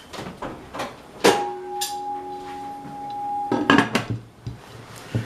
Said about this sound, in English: I'm going to hurry up and get this in the oven.